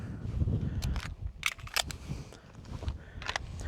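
A pistol is reloaded with a standard magazine, giving a few sharp metallic clicks and snaps over a rumbling background, sounding close and spread over a few seconds.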